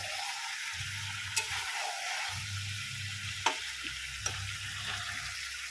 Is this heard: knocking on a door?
no